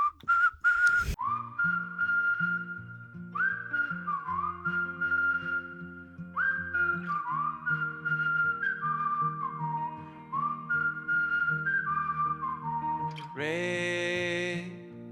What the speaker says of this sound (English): I'm a big fan of the whistling